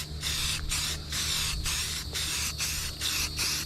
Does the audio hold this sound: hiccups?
no